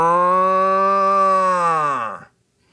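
An ox moos in a told story: one long, loud, tonal low, rich in harmonics, held for about two seconds before it bends downward and cuts off into silence.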